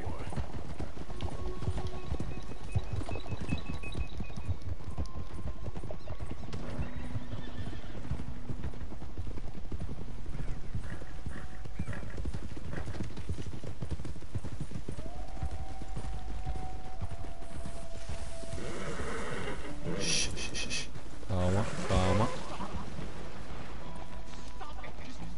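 Horse hooves clip-clop steadily through a Red Dead Redemption 2 game scene, with occasional whinnies and neighs rising over the constant ambient bed, a louder burst of commotion near the end.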